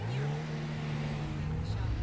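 A car engine in GTA Online hums and revs with a steady droning tone, moderately loud and continuous, while a faint voice talks.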